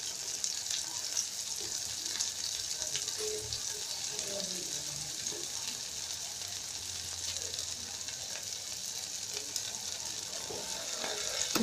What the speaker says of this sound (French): Et on continue à mélanger sans cesse.